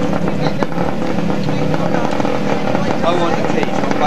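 Vintage British two-stroke radial motorcycle engine running at an Ariel rally, a loud continuous buzzing drone with a rough, fluttering texture, close by, with voices talking over it.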